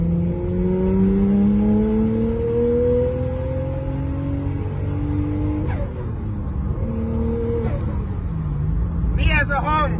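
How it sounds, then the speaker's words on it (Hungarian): A turbocharged Nissan Skyline engine revs up steadily with a rising pitch, shifts down, then revs again; a whooshing turbo flutter follows near the end. A voice talks throughout. "Ez 3000-es fordulat, és már él a turbó, él az autó."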